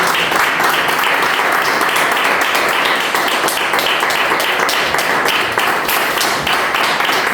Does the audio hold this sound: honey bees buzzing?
no